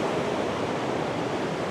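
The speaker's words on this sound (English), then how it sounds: "this is the flow of water we are having to contend with" Dense, continuous rushing of fast water pouring through a canal sluice under a bridge, loud and close with no pauses.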